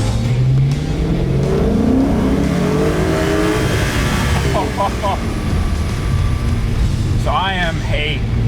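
An Italian supercar engine revs loudly and close, rising and falling in pitch through several throttle blips, with people talking over it.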